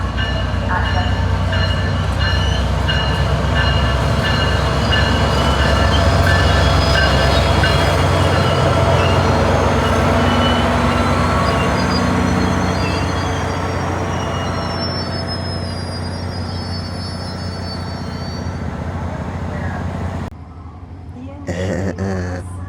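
A SunRail commuter train rumbles loudly past a pedestrian crossing, wheels and cars roaring steadily with squealing tones before the noise drops away near the end, while a recorded safety announcement plays over it.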